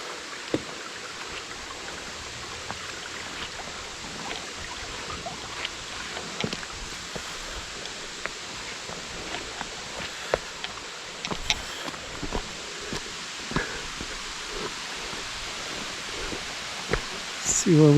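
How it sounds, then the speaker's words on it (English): A creek flowing just above a waterfall gives a steady, broadband rush of water throughout, with small splashes and occasional clicks over the constant wash and no voices. "There's a stream up above the waterfall here."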